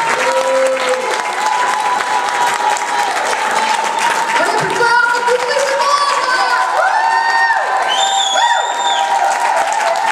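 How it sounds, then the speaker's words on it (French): Loud, sustained applause and cheering from a crowd at a dance gala, with whoops and shrill children's shouts rising over continuous clapping. "On applaudit bien fort"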